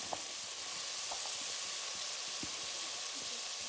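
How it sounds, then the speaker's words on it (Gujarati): Cut potatoes sizzle in a pan with cumin powder, turmeric and salt, a faint continuous frying hiss with a few soft scrapes as they are mixed. "પછી તેની અંદર કાપેલા બટાકા નાખી તેને બરાબર મિક્સ કરી દેવાના"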